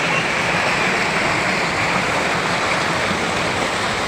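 A powerful waterfall roars loud and unbroken at close range, a dense, steady wash of falling water with no pauses.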